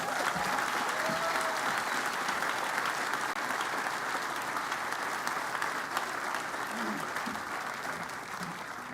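A large audience applauds steadily at the University of South Florida on-campus stadium groundbreaking ceremony, welcoming a speaker; the dense clapping holds loud and unbroken for the whole stretch, with faint voices mixed in.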